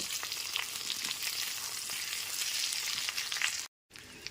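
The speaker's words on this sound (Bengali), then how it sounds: "এক থেকে দেড় মিনিট ধরে আলু আর কাঁচকলাটা একটুখানি ভেজে নেব" Potato and raw green banana pieces frying in hot oil, giving a steady, close sizzle throughout with a brief cut near the end.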